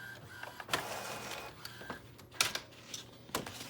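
An inkjet-style printer runs a journaling print along the edge of a page, giving soft mechanical whirs and several sharp clicks and carriage shuttles at a quiet, close level, with no talking.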